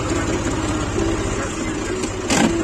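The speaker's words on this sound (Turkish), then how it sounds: "Şuraya çekeyim traktörü." A Ford 3000 tractor engine runs steadily with a low, even diesel-like throb as the tractor is pulled into a parking spot at an inspection station, with a brief louder burst near the end.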